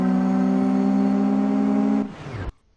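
A car engine in the CSR Racing game revs hard and steady, strong and near, then drops sharply as a gear shift cuts in, followed by a brief lower note and near silence.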